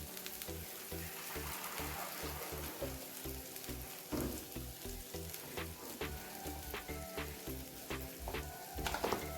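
Spice paste (masala) frying in oil for a Tangra fish curry, with a dense, continuous close-up sizzle and spitting that fills the whole stretch, plus occasional sharper pops and faint stirring knocks.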